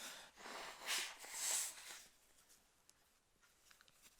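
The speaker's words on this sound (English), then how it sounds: "y'all witnessing me blowing my nose" A person blowing their nose: about two seconds of loud, breathy, rushing bursts up close, then near silence with a few faint ticks and a sharp knock at the very end.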